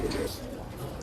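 A brief, close pigeon coo rises from a Bangalore pet shop amid a low background murmur of other birds and faint voices.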